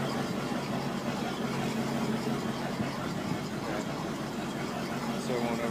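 A 1993 Kayot Ultima boat engine runs out of the water, hooked up to a garden hose, a steady close low rumbling idle with a faint rhythmic knock, continuous and even throughout.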